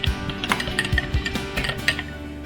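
A spoon clinking rapidly against a bowl while whisking salad dressing, a quick irregular series of light metallic taps, close and fairly soft, with no talking.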